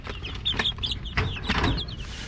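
Several backyard chickens cluck in short overlapping calls, with a few sharper squawks rising over steady low background noise at moderate loudness.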